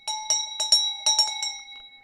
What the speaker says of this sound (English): Got to give a bell for that, Stephen.